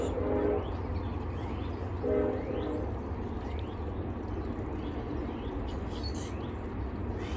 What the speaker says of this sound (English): Got a train going by, see if we can hear him blow.